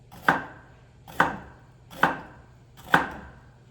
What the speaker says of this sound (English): I'm gonna add some jalapeno right now. Let me grab my knife.